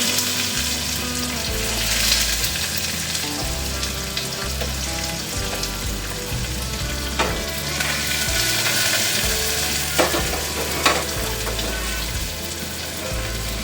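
Curry leaves and chopped onion fry in hot oil in a pan, a steady, loud sizzle running throughout with occasional stirring scrapes and clinks, no voices.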